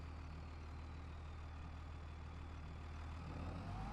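Tractor engine idling in a farming video game, a steady low diesel drone, faint and continuous, slightly rising in the last moment.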